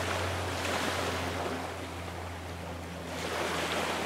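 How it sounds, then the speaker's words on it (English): Ocean waves at the beach roar steadily and close, with a constant rushing wash, a swell building and easing near the end, and a low rumble of wind on the microphone. No one speaks. "obviously I'm at the beach because you could hear the waves"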